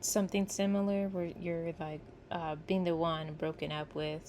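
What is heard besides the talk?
No everyday noise stands out behind the speech.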